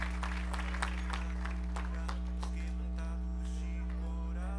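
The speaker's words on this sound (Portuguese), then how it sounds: "E você pode aplaudir o Senhor Jesus." Church congregation applauding during a CD launch service, a steady wash of clapping under a strong low hum, with scattered louder claps early and fading toward the end.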